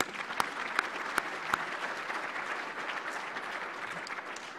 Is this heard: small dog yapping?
no